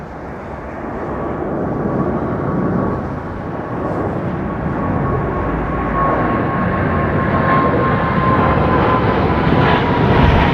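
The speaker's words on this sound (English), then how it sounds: "I bet a tenner that Shung Hyung Lee has flown this aeroplane" A Korean airliner at London Heathrow Airport makes a loud, continuous roar of jet engines that builds slowly and holds steady for about ten seconds, with a faint whine riding on top.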